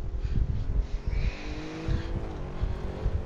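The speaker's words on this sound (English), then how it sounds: "Ooh, a bit quick downshift." Audi RS6-R braking hard from high speed on the Nordschleife, engine note stepping down through quick downshifts with rumbling, blipping revs over steady road and wind noise.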